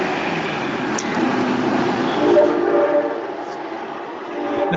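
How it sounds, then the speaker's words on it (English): A train passes nearby, heard as a steady, broad rumble with a whistle sounding over it, recorded from indoors during a planning commission meeting. "Someone's a lot closer to the train than I am."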